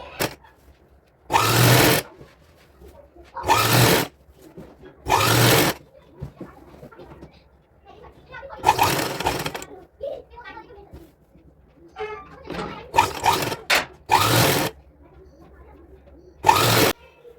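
A sewing machine stitches fabric and lining for a young girl's designer outfit, running in several short, loud bursts separated by pauses where someone talks.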